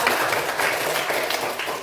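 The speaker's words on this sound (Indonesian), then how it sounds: "Kasih tepuk tangan untuk kelompok 5." Applause from students in a classroom for a group that earned a top score, a short, dense wash of clapping at moderate level, steady throughout.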